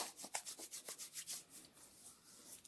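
Hands rubbing together with an eucalyptus and cinnamon essential oil blend, a soft, close, rhythmic swishing friction repeated in quick strokes, quiet and fading toward the end.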